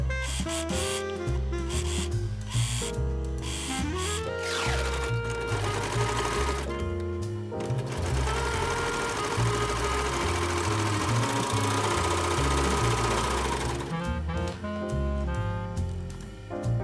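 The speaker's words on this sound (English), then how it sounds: "Using a serger, zigzag stitch or straight stitch, depending on your fabric, sew around the outsides of the circles." A serger sewing machine stitches around the edges of fabric circles cut for a beret. Its motor hums steadily and loudly at close range, with brief pauses and restarts in the whirring.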